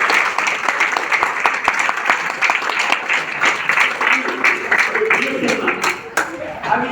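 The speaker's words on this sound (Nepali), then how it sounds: "एकचोटि जोरदार ताली दिएर" A hall audience at a DXN business gathering bursts into sustained, fairly loud applause, with steady dense clapping throughout and voices and cheers mixed in.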